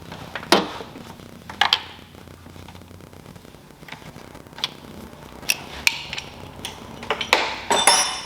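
Ratchet working on the spark plugs of a 2013 Honda CR-V engine, heard as scattered sharp metallic clicks and taps at irregular intervals over a quiet background hiss, close by.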